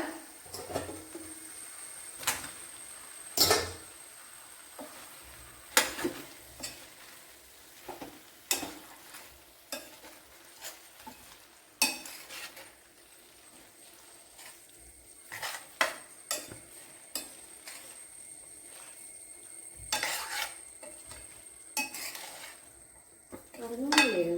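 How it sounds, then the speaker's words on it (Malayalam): Cauliflower tipped into a pan of well-cooked onions and stirred, giving a run of sharp scraping and clinking spoon-on-pan strikes at an uneven rhythm over a faint background sizzle, close and fairly quiet. "ഇനി ഇതിലേക്ക് ആ കോളിഫ്ലവർ ഇട്ട് കൊടുക്കുക."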